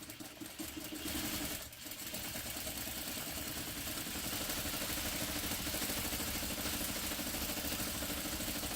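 A sewing machine runs steadily on a quarter-inch seam with a short stitch length, a continuous close whirring hum that dips briefly early on before holding an even, unbroken drone.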